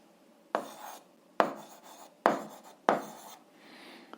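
Chalk or marker strokes on a board while an algebra solution is written out, four distinct scraping strokes in a steady rhythm, close and fairly quiet, with no talking.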